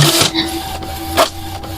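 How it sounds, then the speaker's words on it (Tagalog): A computer printer whirs into motion, with a loud, steady mechanical hum and a sharper feed burst partway through, heard close and without any talking. "nagulat na lang po ako nang biglang bumukas yung printer."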